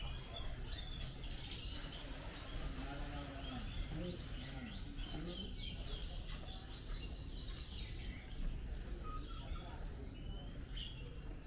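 Caged birds at an Indonesian animal market chirp and tweet constantly, many calls overlapping over a steady market hum, with occasional voices.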